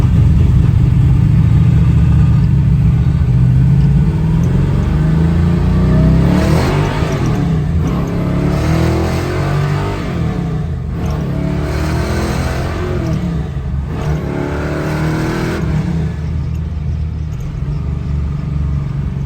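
A 1967 Chevrolet Camaro engine runs loud and close, building from a steady rumble into a hard rev as the car accelerates, with the pitch rising and falling through several pulls.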